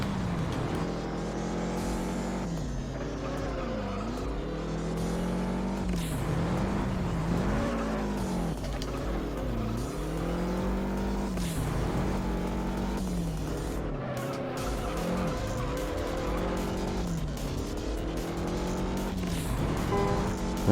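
A race car in the video game Juiced, driven with nitrous, whines loudly and continuously, its engine pitch climbing and dropping repeatedly through gear changes and corners.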